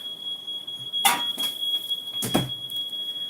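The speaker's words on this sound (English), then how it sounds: "that's the fire alarm going off" A household fire alarm sounds as a steady high electronic tone running through the whole stretch, with a couple of louder knocks or clatters near by and faint background noise.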